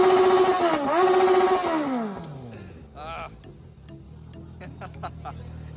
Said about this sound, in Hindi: अरे दोनों गाड़ी के साइलेंसर एक नंबर बाजा थे।